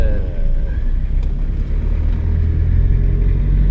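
Mitsubishi Mighty X pickup engine running with the air conditioning switched on, a steady loud low rumble that lifts slightly in revs, continuous throughout with no talk.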